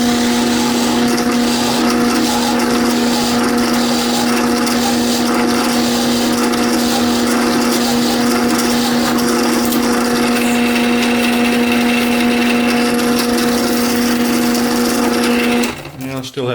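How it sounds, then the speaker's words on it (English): A drill bores off-center into wood, probably a wooden bench hook or clamp held against a fence, giving a steady, loud, high-pitched motor whine with a constant tone throughout that cuts off abruptly at the end. "Now I'm drilling off center"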